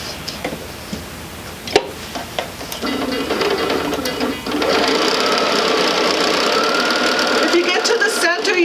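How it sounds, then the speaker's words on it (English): A sewing machine runs steadily across a quilt sampler, starting with a few clicks and short bursts, then settling into a loud, continuous whirring stitch that stops near the end. "we'll go ahead and continue to sew this all the way across"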